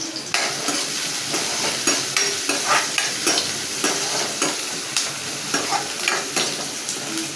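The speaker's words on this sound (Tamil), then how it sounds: "பூண்டு, வெங்காயம், 2 காஞ்ச வத்தல், 1 பச்சை மிளகாய். இதை நல்லா ஆனில் வச்சு வதக்கிட்டே இருக்கும்" Garlic, onion, two dried red chillies and a green chilli sautéing over a flame, heard as a loud steady sizzle with rhythmic spatula scrapes against the pan every half second or so, no talking.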